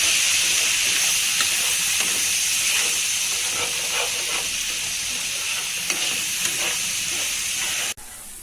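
Fish and spice masala with a little jaggery, stirred in a hot pan: a loud, continuous hiss and sizzle with faint stirring scrapes, cutting off abruptly near the end.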